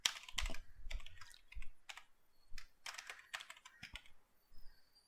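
Close, quiet typing on a computer keyboard: irregular clusters of crisp key clicks with short pauses between bursts, alone with no voice.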